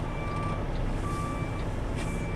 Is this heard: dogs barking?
no